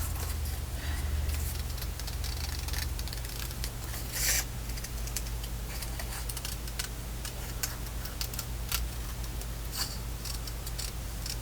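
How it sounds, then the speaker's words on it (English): Scissors cutting out paper for an altered book, a long run of quiet, close snipping and ticking blade strokes with one louder rustle partway through and no speech. "But let's cut it out while we're here."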